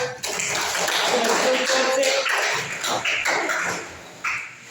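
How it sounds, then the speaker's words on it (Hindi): A classroom of students claps for classmates during a 9th standard Hindi lesson, a steady burst of hand claps for a few seconds with some speech mixed in. "इनके लिए भी तालियां"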